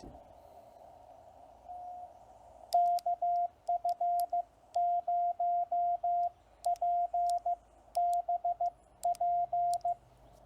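Morse code tones, steady mid-pitched beeps in groups of dots and dashes, spelling out a call sign over a faint hiss, with no talking.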